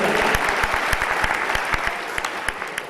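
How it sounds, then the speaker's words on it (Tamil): Steady applause from a crowd, dense clapping throughout with a few sharper claps standing out, fairly loud and close. "ரஃபேல், பவுலா, கவிதா, பவுல், ஜெயன் இந்த அன்பு செல்வங்களுக்கு மீண்டுமாய் உங்கள் கரகோஷங்கள்."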